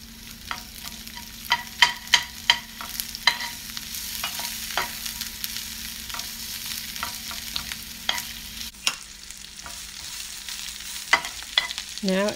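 Dry shrimp and onions stir-fried in a pan for a gourd and egg dish, with a steady sizzle and repeated sharp scraping and clacking of the utensil, loud and close, no talk.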